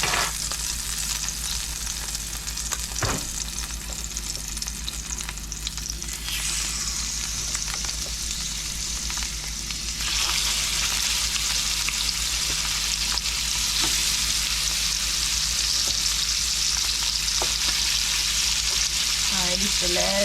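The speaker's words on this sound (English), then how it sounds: "we're gonna let these cook, sear on the top, sear on the bottom" Lamb chops sear in a hot pan with a steady, loud sizzle that fills the full stretch, with occasional crackles and faint clinks near the end.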